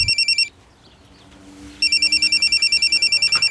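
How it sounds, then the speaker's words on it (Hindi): A mobile phone rings loudly and close by, a fast repeating electronic trill in two bursts with a short quiet gap between, the second burst running steadily to the end. "जब मैं लोडिंग कर रहा था तब अचानक बलराम जी का फ़ोन बजा"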